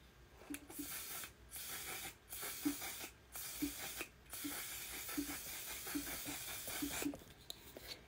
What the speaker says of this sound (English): Oh, I probably need to spray my face.